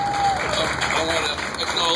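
An audience applauds law enforcement officers at a public event, a short burst of dense clapping under a speaker's voice.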